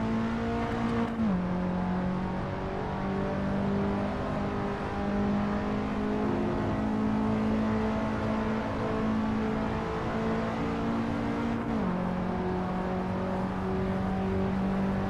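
A race car engine in a racing simulator at Roebling Road drones steadily and loudly for the whole stretch, its pitch dropping briefly twice as it shifts or lifts off, with no talking.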